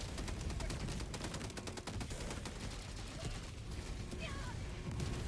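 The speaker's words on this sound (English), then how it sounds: "I didn't know you could fire so fast with the anti-tank." An anti-tank weapon in Helldivers 2 fires in fast repeated shots amid a constant wash of battle noise and other gunfire, fairly faint overall, with voices talking over it.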